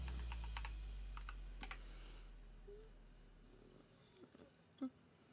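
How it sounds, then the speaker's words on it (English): A few light taps on a computer keyboard sound early on, then quieter sparse keystrokes over a low steady hum, with no speech. "I'm typing in Screaming Pope."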